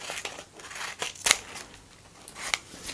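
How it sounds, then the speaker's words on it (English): Scissors trim the edge of paper for a handmade paper rose, a handful of close, crisp snips spaced irregularly with soft rustling in between. "so I'm just going to trim that off"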